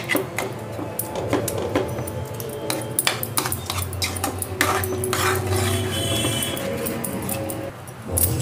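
A spoon stirs pav bhaji in a metal pot, giving repeated close clinks and scrapes against the sides in an uneven rhythm, with a low background hum throughout.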